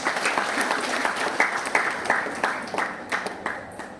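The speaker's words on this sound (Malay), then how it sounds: "Tepuk tangan." Audience at a thanksgiving ceremony claps in a loose, lively patter of many hands, fairly close, with a few stronger claps standing out and some voices faintly underneath.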